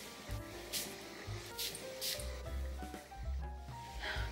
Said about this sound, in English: I'm gonna spray them on a strip of paper so that I can refresh my memory.